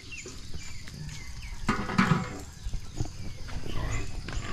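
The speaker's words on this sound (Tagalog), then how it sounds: "Ay, mga baboy ni Michael." Pigs on a Filipino farm grunt and squeal near the listener, with many overlapping animal calls forming a steady, noisy chorus.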